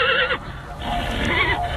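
A horse whinnies loudly and close, a short excited neigh with wavering pitch and no voices.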